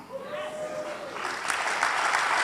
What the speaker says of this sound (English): Yeah, clap your hands.